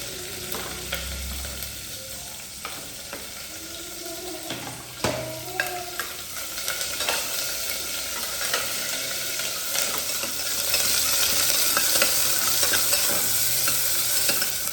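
Onion and chillies fry in oil for sambar, crackling steadily as a spoon stirs and scrapes the pan at close range, with the sizzle growing louder toward the end and no talking.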